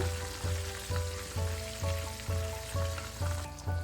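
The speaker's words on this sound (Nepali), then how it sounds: "यसलाई दुवैतिर फर्काउँदै चलाउँदै रातो र क्रिस्पी हुने बेलासम्म फ्राई गर्नुपर्छ।" Chicken fingers fry in hot oil with a steady crackling sizzle, while soft rhythmic bumps recur about twice a second under it.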